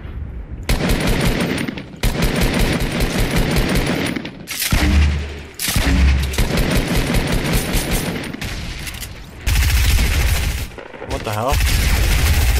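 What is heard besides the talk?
gunfire in the video game Fortnite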